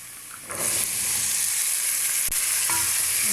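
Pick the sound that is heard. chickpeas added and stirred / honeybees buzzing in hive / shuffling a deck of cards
chickpeas added and stirred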